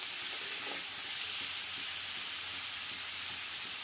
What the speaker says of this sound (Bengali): চিংড়ি মাছটা আমি হালকা করে ভাজবো, খুব কড়া করে ভাজবো না